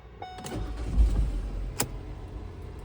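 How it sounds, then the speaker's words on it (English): A car engine cranks briefly on a jump starter and catches at the turn of the key, with a short whirring start and a sharp click, all within a few seconds. "the jump starter starts the car on the very first twist of the key"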